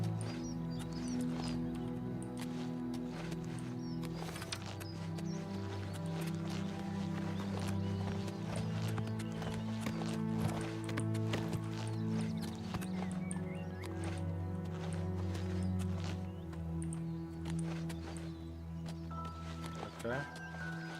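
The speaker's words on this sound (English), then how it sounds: "There's like a whole bunch of wild horses over here." Hooves clip-clop steadily as a group of wild horses moves along in the video game The Elder Scrolls IV: Oblivion Remastered, a faint whinny rising once, with background game music and speech underneath.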